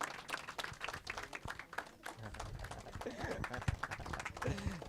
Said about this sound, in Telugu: చప్పట్లు కొట్టండి అమ్మా